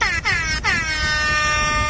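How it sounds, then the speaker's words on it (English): Air horn blast from a phone noise app, loud and sustained with a bright harmonic stack, briefly broken twice near the start, then held steady to the end. "It's called Ham Horn or Rap Air Horn. It's a good app, good for making noises such as this."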